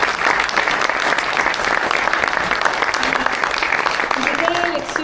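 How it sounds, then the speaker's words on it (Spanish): Audience applause at a talk on climate change in agriculture, steady dense clapping filling the whole stretch at a fairly even level with no voices over it. "así que le damos un fuerte aplauso a la amiga."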